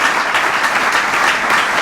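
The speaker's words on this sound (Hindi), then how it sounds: "आइए खुदावंत के लिए जोरदार तालियां।" Congregation at an Urdu Christmas night church service in Sohar, Oman, breaks into loud, sustained applause, a thick wash of many hands clapping close and unbroken.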